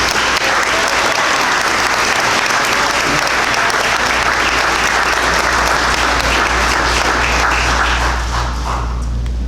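A loud, dense round of audience applause for the actors of a film, sustained and steady for the whole stretch with a low hum underneath, tapering slightly at the very end.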